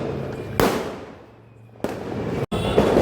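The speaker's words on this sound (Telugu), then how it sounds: "చేతితో పట్టుకుని మరి కాల్ చేస్తున్నాడు బాంబు. అది పెద్ద సౌండ్ అవుతుంది కదా." Hand-lit firecracker bombs going off for Diwali: two loud, close blasts in quick succession, each a sharp crack with a brief rumbling tail, over faint outdoor background noise.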